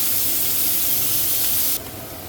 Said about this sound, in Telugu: ఈ ఆయిల్లోనే ఒక పెద్ద సైజు ఉల్లిపాయలు ఫ్రై చేసుకోవాలి